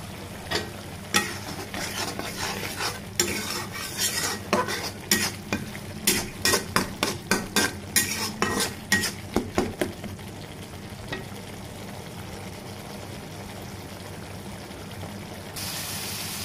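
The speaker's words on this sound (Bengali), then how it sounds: "এখন মশলাটাকে ভালোভাবে কষিয়ে নেব" Spice paste stirred and fried in a pan for a village-style green banana and prawn curry, a steady sizzle with a run of sharp utensil scrapes and taps in the first ten seconds, then a quieter continuous frying hiss.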